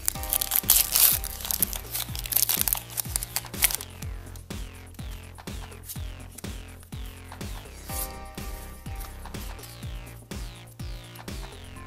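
A Pokémon card booster pack of the Exilus set is torn open, its foil crinkling loudly at first. Sharp, rapid clicks and snaps follow close by as the cards are handled, with no talk.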